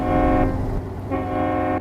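A Scania truck's horn in Euro Truck Simulator 2 blares in a sustained, loud, low multi-tone blast for nearly two seconds, briefly dipping midway before sounding again, with no talk over it.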